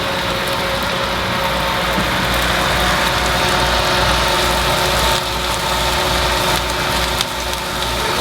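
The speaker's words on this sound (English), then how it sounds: "our oven vent Sounds like a... jet engine taking off" An oven vent fan in an Airstream RV roars loudly and steadily, a dense, unbroken whoosh with a low mechanical hum underneath.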